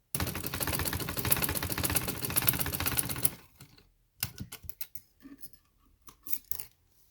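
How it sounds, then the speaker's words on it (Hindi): A domestic sewing machine runs a stitch along a fabric edge while piping a shirt neckline, a fast, steady mechanical rattle for about three seconds that stops abruptly, followed by a few scattered clicks and handling sounds. "देखें किनारे पे मैं सिलाई दे रही हूँ"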